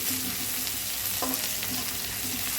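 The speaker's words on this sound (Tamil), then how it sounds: "இப்போ வந்து பீன்ஸ் போட்டு வதக்கிக்கலாம்" Green beans sautéing in hot oil for vegetable fried rice, a steady close sizzle with occasional stirring scrapes, no voices.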